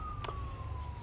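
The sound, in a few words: police siren in the distance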